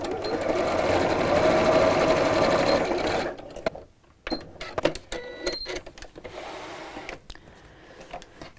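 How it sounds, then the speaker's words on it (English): A sewing machine stitches the sides and bottom of a simple lined apron in a loud continuous whirring run, then stops, leaving scattered clicks, fabric handling and short bursts of stitching, close up with no talk. "I'm going to sew around the sides, across the bottom, but leave a turning up in the bottom"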